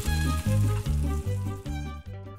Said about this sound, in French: faire fondre une noix de graisse de canard dans une poêle antiadhésive pour y faire rôtir les palais Caussadet sur leurs deux faces